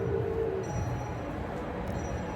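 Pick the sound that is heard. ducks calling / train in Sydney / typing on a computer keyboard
train in Sydney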